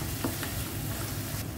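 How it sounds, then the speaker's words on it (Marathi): Tomatoes cooking in a pan are stirred over a continuous close sizzle, with a few soft scrapes of the spoon and no voices. "बरें ताका मिक्स करून घेयात."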